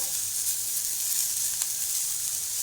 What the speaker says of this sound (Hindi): ये लहसुन प्याज हो गया, अब टमाटर भी डाल दिया।